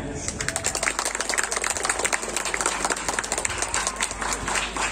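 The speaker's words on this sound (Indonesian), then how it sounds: "berikan tepuk tangan." Brisk clapping from a group of students at an Islamic boarding school (santri) evaluation session, steady and moderately loud across the whole stretch.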